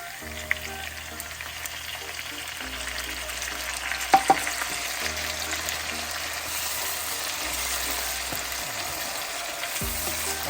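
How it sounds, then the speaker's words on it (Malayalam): Tomatoes frying with sautéed onions and green chilies for a Kerala-style tomato curry give a steady, close sizzle, with a few light clinks of a spoon against the pan partway through. "സവാള ഒന്ന് വഴന്ന് വന്നിട്ടുണ്ട്. അതിലോട്ട് നമുക്ക് തക്കാളി ഇടാം."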